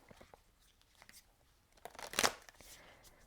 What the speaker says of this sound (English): it's not the easiest deck to shuffle